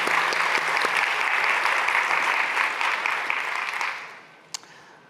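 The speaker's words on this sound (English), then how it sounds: "So maybe one more round of applause for Luisa, Fabian, Boris, and the Bhutan National Statistics Bureau." Audience applause for award winners at a conference prize ceremony, a thick continuous patter of clapping that holds steady, then thins and fades out near the end, followed by a single sharp knock.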